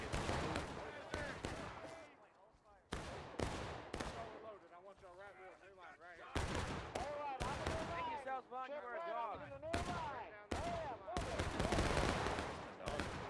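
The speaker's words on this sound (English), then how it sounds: "That's a volley." Musket volleys in the War of Rights video game crack out in repeated loud bursts, some ragged and overlapping, with shouting voices between the volleys.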